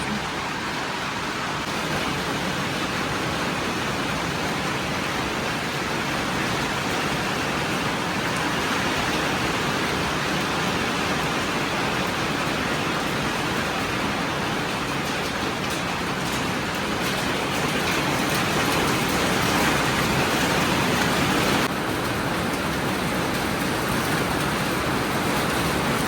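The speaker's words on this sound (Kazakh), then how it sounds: "жаңбыр кәдімгідей құйды, бірақ аспанның ар жағы ашылып тұр" Heavy rain pours outdoors during a passing storm, a dense, steady hiss of downpour filling the whole stretch without pause.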